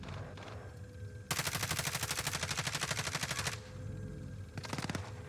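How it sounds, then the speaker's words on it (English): Sustained automatic gunfire in the Call of Duty Warzone video game on Rebirth Island: a loud rapid burst of machine-gun shots lasting a couple of seconds, then a shorter second burst after a pause, with faint game ambience between. "Chemical getting a nice shot on your boy TTV"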